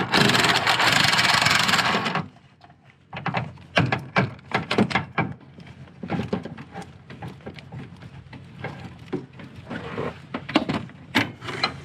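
Jack being pumped under a Honda engine braced by a wood block against the oil pan, then mount bolts loosened: a dense broadband burst for two seconds, then a run of sharp ratcheting clicks and clanks up close.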